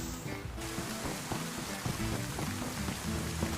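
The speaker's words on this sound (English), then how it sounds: "There's nothing like the sound of rain on tin that'll lull me quicker to a sleep." Soft, steady rain patters on a tin roof in DayZ, a dense continuous drumming heard faintly and alone.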